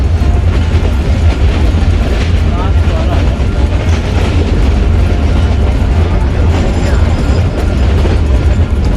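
A train runs along the railway track in Rajasthan's intense heat, its loud, continuous rumble and rattling wheels filling the whole stretch close up.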